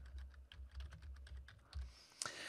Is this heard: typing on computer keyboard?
yes